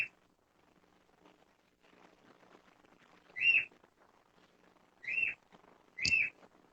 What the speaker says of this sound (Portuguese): Tem um passarinho.